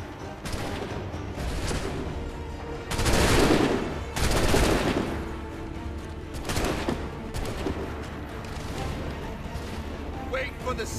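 Gunfire erupts on command in Assassin's Creed 3, with loud broadband volleys around three to five seconds and again near seven seconds over a continuous game soundtrack and ambience.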